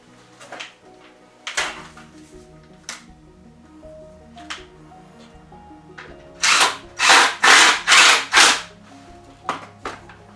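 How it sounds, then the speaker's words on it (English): Power drill driving screws into a wooden five-gallon self-watering planter: several short separate bursts, then a run of four or five loud whirring drives close by, with light knocks between them. "I'm going to put a screw in each one"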